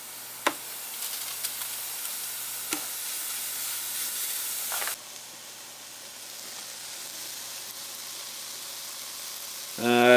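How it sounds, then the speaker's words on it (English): Beef gyro patties sizzle on a grill with a steady bright hiss, punctuated by a few sharp clicks, easing quieter midway before a loud scraping clatter at the end. "Now we grill the patties"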